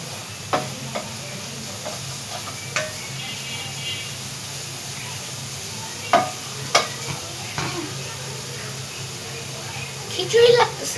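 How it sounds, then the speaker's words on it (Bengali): Grated carrot being stirred in a pan for carrot laddu, with scattered scraping clicks of the spoon over a soft steady cooking hiss, a louder flurry near the end. "ওটা কারণ নাড়িয়ে নেওয়ার পর ওটা হালকা একটু ক্রিস্পি হবে"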